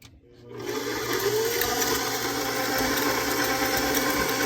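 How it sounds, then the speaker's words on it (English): A stand mixer fitted with a whisk attachment starts up and runs steadily, a loud, continuous motor whir with a faint rising tone, close by and with no voices. "then I will attach the whisk and get this going."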